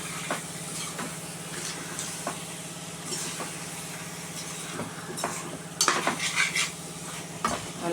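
Mutton curry stirred in a pot in a home kitchen, the spoon scraping and clinking against the metal in repeated strokes over a faint sizzle, growing louder and busier toward the end.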